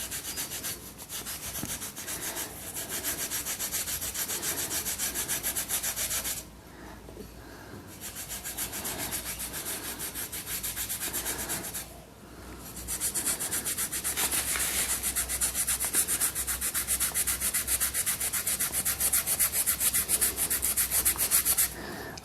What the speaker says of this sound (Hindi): इसके बाद में आप चाहे तो ब्रश के साथ में और चाहे तो एक कपड़े के साथ में इसके ऊपर में इसे इस तरह से लगा के आपको जो वो रब करना है।